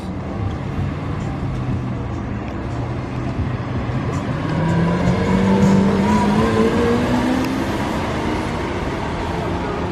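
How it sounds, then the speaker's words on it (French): A Lamborghini Aventador S drives past on a city street, its loud engine rising in pitch as it accelerates by over steady traffic noise. "Aventador S."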